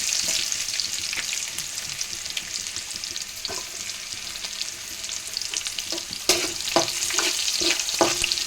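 Dried red chillies and onions fry in a pan with a steady, bright sizzle, and a few stirring clatters and scrapes near the end as the onions go in.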